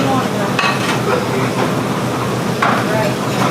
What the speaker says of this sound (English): Just kind of stir it in there.